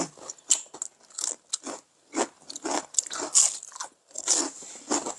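Someone bites and chews crispy deep-fried Korean angelica tree shoots (dureup) close up, giving a series of loud, sharp crunches in irregular bursts separated by brief pauses.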